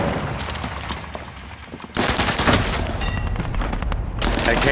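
Heavy gunfire in a multiplayer shooter video game, scattered shots at first, then a loud, dense automatic barrage with booming impacts that continues to the end.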